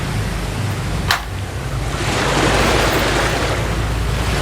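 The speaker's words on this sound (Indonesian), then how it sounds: "Perahunya terseret oleh ombak." Ocean waves as a sound effect in a school drama about a boat swept by the sea: steady broadband surf wash that swells louder midway, with one brief sharp crack early on and no speech.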